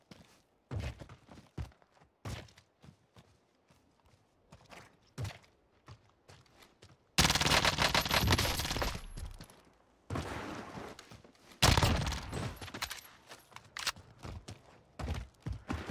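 Enemy gunfire in Call of Duty comes as scattered sharp shots and thuds among footsteps, then a few dense, loud bursts of firing break in, with quieter gaps between them.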